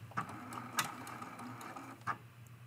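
A sewing machine takes a couple of stitches in reverse, giving soft rhythmic mechanical thumps and clicks over a low motor hum, close and fairly quiet.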